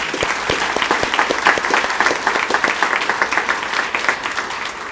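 Steady applause from a crowd at a college topping-out ceremony, many hands clapping densely and close for the full stretch with no speech.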